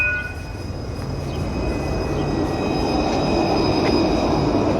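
A city tram rumbles past on its rails, a steady low roll with faint metallic squeals, building slightly in loudness as it nears.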